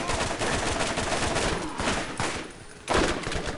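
Pistol gunfire in the video game Borderlands: rapid, loud close shots in quick bursts, with a distinct sharp shot near the end and no talk over it.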